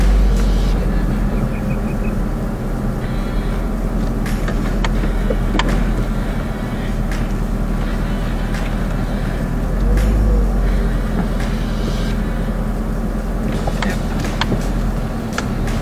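A V8 supercar idles and creeps in reverse, its engine a steady low rumble close by with a slight swell near the middle and no clear revving.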